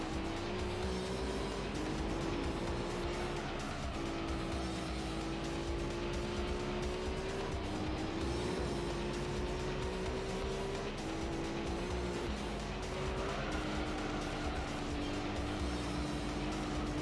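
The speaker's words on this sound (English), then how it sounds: "Look at the car go." Race car from the video game Gran Turismo 3 driving continuously, a steady engine drone whose pitch climbs and drops repeatedly through gear changes, loud and close with a constant background roar and no talk.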